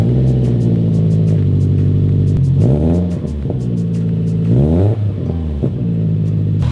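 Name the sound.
car engine starting and revving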